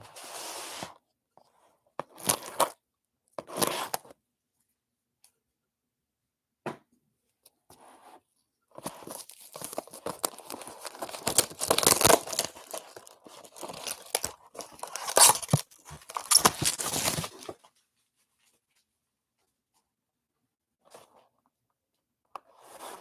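Trading card box packaging being cut open with scissors during a 2021 Prizm Football hobby box break, heard as a run of close crinkling, tearing and snipping bursts that grow denser in the middle and fade to quiet at the end.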